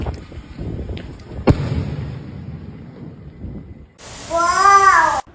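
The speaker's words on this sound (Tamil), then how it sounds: "சிங்கிள் ஸ்கை ஷாட்டு எப்படி வெடிக்குதுன்னு பார்ப்போம்." A single sky shot firecracker from Suncrackers goes off with a sharp pop, followed by a rising, wavering whistle-like screech as it bursts overhead, fairly loud and close.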